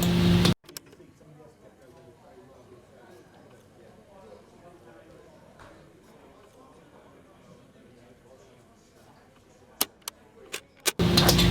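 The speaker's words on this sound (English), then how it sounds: "in the beginning part of the song, I actually have this cassette tape deck startup noise" A cassette tape deck starts up as the intro to a jazz rap beat: a loud burst of clatter, then a low, steady mechanical rumble with hiss and faint ticking, ending in a few sharp clicks and a final burst.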